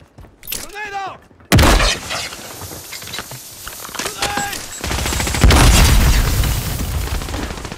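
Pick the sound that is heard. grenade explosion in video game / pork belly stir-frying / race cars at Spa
grenade explosion in video game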